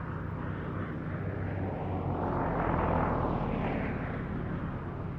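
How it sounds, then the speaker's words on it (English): A Gloster Gladiator biplane fighter flies at an air show, its steady engine roar swelling to a peak midway and easing off again, broad and rumbling throughout with no voices over it. "The Gladiator was the first RAF fighter to enter service that had an enclosed cockpit, but it was also its last biplane fighter."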